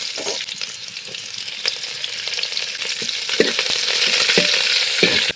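Crushed garlic, ginger, slit green chilies and curry leaves fry in coconut oil for chicken chukka, a loud continuous sizzle close by with occasional stirring scrapes and no talking.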